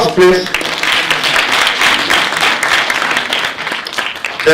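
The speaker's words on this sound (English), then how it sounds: "Round of applause, please." Award ceremony audience at a university symposium closing gives loud, sustained applause, dense clapping throughout with faint voices mixed in.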